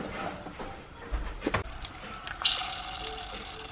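Peppers blister in a hot pan, a quiet crackle at first, then a bright, steady hiss and sizzle that swells partway through and keeps going.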